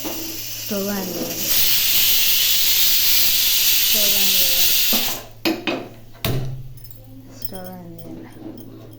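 A gas stove burner lit under a pot of tubers, covered with a cloth and sprinkled with salt, gives a loud, steady hiss for several seconds. A few short whining vocal sounds come before and after it.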